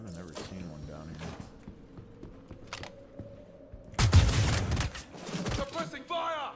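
Suppressing gunfire erupts in a video game as a sudden dense burst of loud shots after a quieter stretch, followed by more scattered firing, with a person speaking around it.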